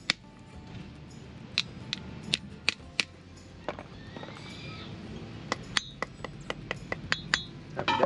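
A hammer taps a seal into a caravan wheel hub through a flat tool, giving a string of sharp metallic clinks at an uneven pace, some quick doubles, close by over a quiet room background.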